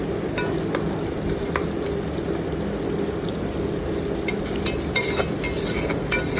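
Tomato pieces simmering and softening in a pan for chicken curry, a steady close bubbling sizzle with a few light utensil clicks and taps, no talking.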